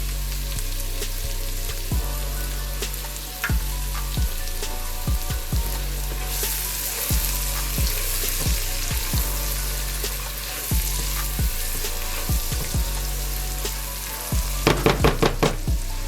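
Onions sizzle steadily in a pan for a creamy mushroom risotto, seasoned with salt and pepper. Frequent scraping stir clicks and taps break up the constant close frying hiss, and no one speaks.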